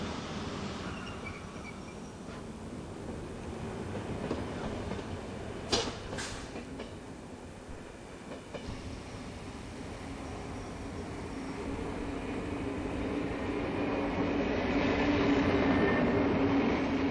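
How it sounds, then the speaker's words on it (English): A busy Swiss railway station where trains are divided and connections are made for the Interlaken and Zweisimmen lines. A continuous rumble of rolling stock is heard, with a couple of sharp metallic clanks and a gradual swell of train noise toward the end. "Trains are divided and connections made for the lines to Interlaken and Schweizsimmern."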